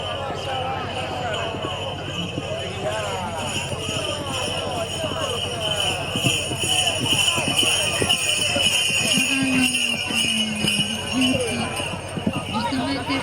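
Hooves of a horse in a Sardinian mountain descent race at Sa Socca Bitzi, a rapid rhythmic clatter running throughout under almost constant excited commentary over a loudspeaker, with crowd noise and a high ringing tone behind.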